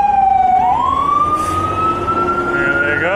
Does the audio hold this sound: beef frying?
no